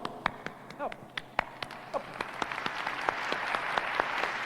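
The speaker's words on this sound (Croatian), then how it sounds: "So this is what the applause would sound like." Sparse audience applause, a few distinct claps at first that build into thin steady clapping from a small group, with a voice briefly heard over it.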